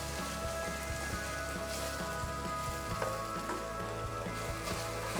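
Thinly sliced potatoes frying in a pan for a potato minestra give off a steady, dense crackling sizzle like light rain, close and even throughout, with no talking.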